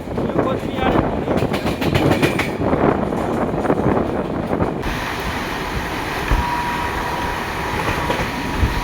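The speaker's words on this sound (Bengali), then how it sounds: "আমাদের ট্রেন এখন চা বাগানের ভিতর দিয়ে যাচ্ছে।" Uttarbanga Express train running through tea gardens in North Bengal: a loud, continuous rumble with rhythmic wheel clatter and wind buffeting, heard from inside the moving train.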